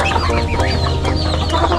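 A flock of backyard chickens clucks steadily close by, with overlapping short calls and no talking.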